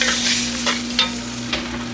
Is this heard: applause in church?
no